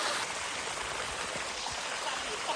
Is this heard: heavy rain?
yes